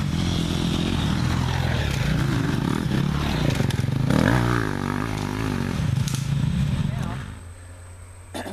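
A four-stroke dirt bike engine runs loudly and nearby, rising and falling in pitch as it revs, then drops away near the end, with a voice talking over it.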